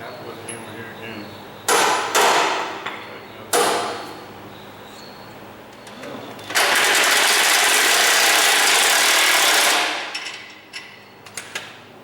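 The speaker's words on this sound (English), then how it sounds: "Have to put the hammer here again." A hammer strikes metal while the rear end is fitted into a super stock race car in a garage: a few sharp clangs, then a long sustained loud metallic rasp and scattered knocks, with faint talk in places.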